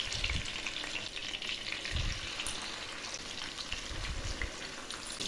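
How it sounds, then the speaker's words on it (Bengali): Katla fish pieces frying in a pan of hot oil give off a steady, close crackling sizzle with a few louder low pops and spits, with no voices. "তেল গরম হয়ে গেছে। এখন আমি একে একে মাছগুলো ছেড়ে দিচ্ছি।"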